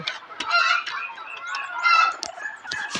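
Desi chickens cluck and chatter in a busy poultry yard, several birds calling in overlapping bursts at close range with no speech.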